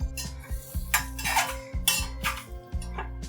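Boiled eggs tossed in masala in a pan, with repeated clanks and scrapes of a metal spoon against the pan in an uneven rhythm, close and fairly loud, with no talking.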